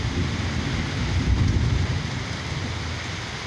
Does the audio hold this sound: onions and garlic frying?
no